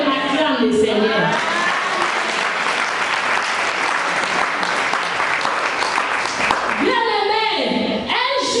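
A church congregation at a women's convention in Creil applauds and cheers in praise, a dense, loud, sustained wash of clapping and acclaim, with a preacher's voice rising above it at the start and end.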